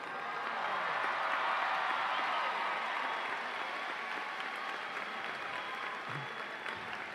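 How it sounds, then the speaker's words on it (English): Loud, steady applause from a large audience at a high school graduation ceremony, sustained clapping that fills the hall for several seconds and slowly tapers off, with no talking over it. "let's give them a round of applause"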